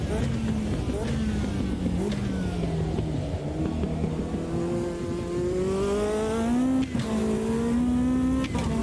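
Race car in Automobilista 2 braking and accelerating through a quick chicane ahead of a hairpin, engine pitch rising and falling continuously with steady loud revving; someone talks over it.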